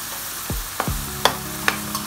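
Chopped potatoes and peas frying in a pan, a steady sizzle broken by a few sharp scrapes and knocks of a spoon stirring the mixture.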